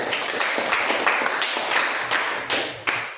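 Classroom applause from students during an academic session, a close burst of hand clapping with a few sharper accents that tapers off toward the end.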